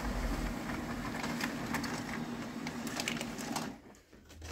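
A Xerox B205 laser printer runs a configuration page, giving a steady mechanical whir with rhythmic clicks and feed clatter that stops abruptly near the end, with no talking.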